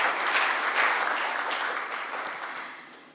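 An audience at a justice launch event gives a round of applause, a thick burst of clapping that gradually tapers off toward the end.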